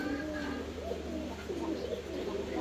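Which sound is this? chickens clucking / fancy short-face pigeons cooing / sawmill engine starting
fancy short-face pigeons cooing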